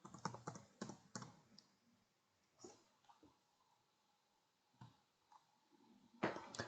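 Keys tapped on a computer keyboard in short clustered bursts of clicks, close and fairly quiet, separated by brief pauses.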